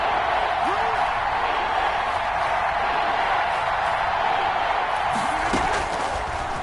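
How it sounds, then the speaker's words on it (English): A steady, loud stadium crowd roar fills an American football video game on PS4 as a big third down approaches, a dense continuous wash of cheering with no pauses. "the crowd getting into it as we come up on a big 3rd down"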